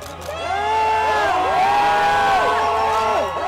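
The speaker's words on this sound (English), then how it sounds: "Cheers and applause echo through the fan district as this divisive symbol comes down." Several hundred spectators in Richmond's Fan District cheer and whoop as a crane lifts the 12-ton bronze Robert E. Lee statue off its granite pedestal, a loud sustained outdoor roar with rising shouts throughout.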